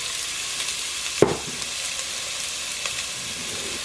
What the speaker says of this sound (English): I want to saute these vegetables for about 5 minutes